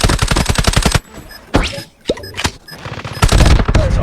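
Rapid bursts of automatic gunfire in the Call of Duty Mobile shooter game, loud and close, with single shots and short pauses between volleys.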